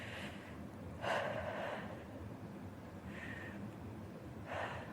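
Slow deep breaths during a gentle seated exercise session: a few audible inhales and exhales spaced a couple of seconds apart, soft and close, over faint room noise.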